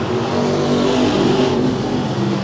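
A race car at Willamette Speedway accelerates hard out of turn 2 and down the backstretch, its engine a loud, sustained, steady roar that fills the whole stretch with no talk.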